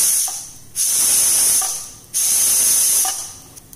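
A pressure cooker of vegetables vents steam as its weight is lifted, giving loud hissing bursts in a repeating pattern, each surge of spray separated by short quieter gaps with faint mechanical clicks.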